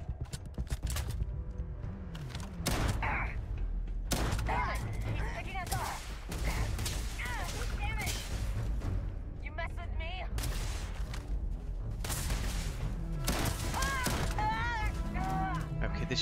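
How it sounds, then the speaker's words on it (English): A shotgun firing in the video game Starfield, survival mode, with several loud blasts spread across the stretch among other game noises and ongoing talk. "this shotgun just became like my new favorite weapon"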